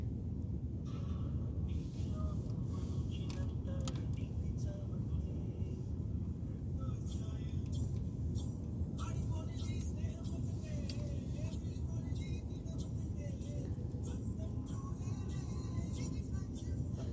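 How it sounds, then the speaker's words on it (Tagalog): Steady road traffic rumbles on a busy city street near an overpass, a continuous low drone of cars and larger vehicles with no clear breaks. "Traffic na naman po,"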